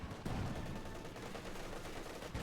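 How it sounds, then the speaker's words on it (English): Machine gun fire in the real-time strategy game Company of Heroes 2, a steady, dense rattle of shots blending into a continuous battlefield din at moderate distance. "We got 2 machine guns."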